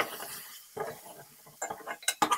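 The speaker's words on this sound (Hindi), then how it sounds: "तकरीबन 1 मिनट के लिए मैं इन तमाम ड्राई स्पाइसेस को चिकन के साथ भून लूंगी" Spoon scraping and clinking in a pan while stirring chicken with dry spices such as red chili powder, light irregular metallic taps and scrapes close up, with brief quiet gaps between strokes.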